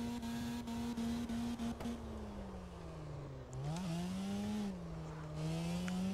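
Car engine in the CarX Drift video game, revving steadily with a sustained droning pitch that sags, dips sharply and then climbs again, with quick shift-like blips early on, no talking.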